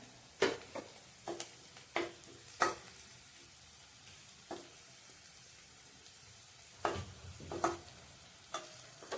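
Spices such as turmeric and ghati masala roasting in oil in a pan, a soft low sizzle punctuated by repeated distinct clinks and scrapes of a spoon stirring.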